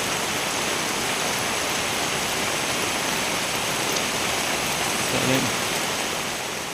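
Heavy rain pouring down steadily in a flooded residential area, a dense, unbroken hiss of falling water with no voices.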